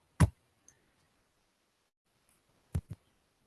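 A few sharp clicks from typing on a keyboard into an app's input box, one near the start and a pair near the end, quiet and isolated with silence between.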